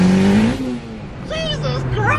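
A 500hp Honda Civic Si with a stock transmission and fuel system pulls hard in second gear, its engine note rising loud and close and then climbing again after a brief dip, with people talking over it.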